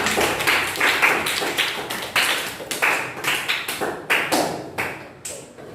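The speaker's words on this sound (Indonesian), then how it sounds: "Kasih aplaus lagi buat kelompok." A classroom of students applauds a student group in loud bursts of clapping that swell and fade several times, close by and without talk.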